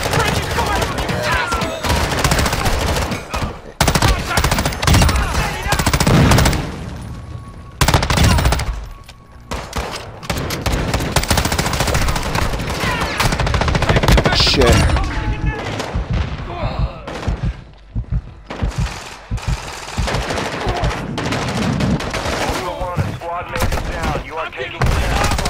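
A .50 caliber machine gun in the DMZ mode of a Call of Duty style shooter fires long heavy bursts, loud and near, with brief pauses between volleys and players talking over it.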